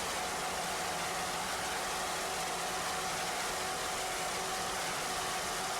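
C-class racing powerboat engines with Mercury outdrives roar during a 1993 race on Lake Erie, heard as a faint, steady, hissing drone from a distance with no break.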